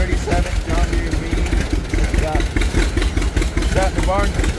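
Engine of a 1937 John Deere V tractor running at idle, a rhythmic low chugging putter, close and steady, with people talking over it.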